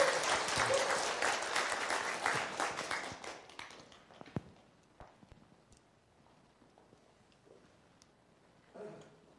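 A church congregation claps to welcome a speaker, a loud dense burst of applause that fades out after about four seconds, followed by scattered footsteps and small room noises, then a brief shuffle near the end.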